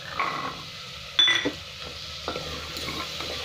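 Cumin powder and spices frying in a pan for a Bengali cabbage ghanto, with a soft steady sizzle and a few clinks and scrapes of a spoon against the pan.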